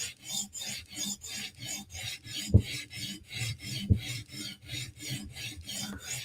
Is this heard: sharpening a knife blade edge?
yes